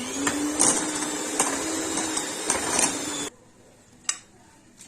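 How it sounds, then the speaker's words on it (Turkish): An electric hand mixer mixing cake batter with sugar and vanilla whirs steadily with a rattling motor hum and small clicks, then cuts off abruptly, leaving quiet with one brief knock. "Mikser yardımıyla tekrar karıştırıyorum."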